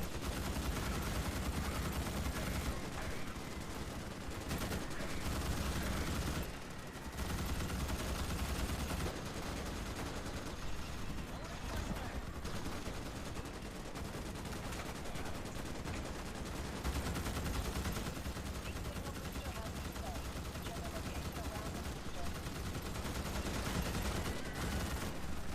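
Sustained automatic rifle fire in the sci-fi shooter Starship Troopers: Extermination, a dense, continuous loud barrage of bursts with only a brief pause, filling the whole stretch with no talk over it.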